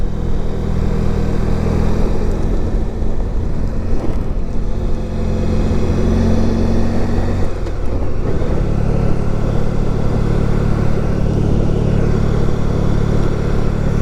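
A 1994 Honda ST1100 motorcycle engine idles loudly and steadily nearby on gravel, its low throb shifting pitch briefly before settling back into a constant rumble.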